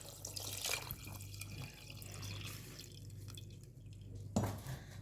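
Water being poured into a pot of lemonade mixture with sugar, heard as soft dripping and trickling liquid at moderate distance, with a brief louder splash near the end; no talking.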